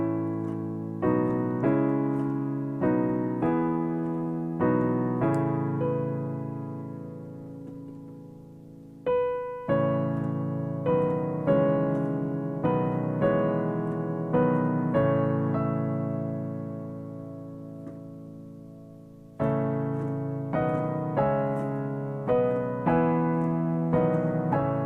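Piano plays a song, with left-hand chords under a right-hand melody, struck notes decaying between phrases in a slow, steady rhythm, close and clear without talking.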